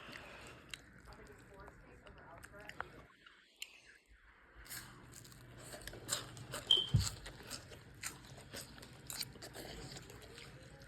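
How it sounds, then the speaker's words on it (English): Crunchy noodles being bitten and chewed up close, with scattered crisp crunches and soft mouth sounds, a quieter pause midway, and faint voices murmuring in the background. "just crunch them up and enjoy."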